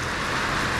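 Heavy rain from a typhoon pours down in a steady, dense hiss, loud and close with no pauses over a brief moment.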